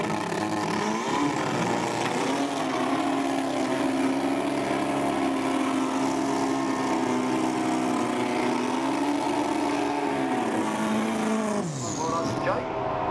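Super street bike engines idle and rumble steadily as the bikes sit in a drag race burnout area under a stormy sky, with a pitch sweep near the end and a voice talking over the engine noise.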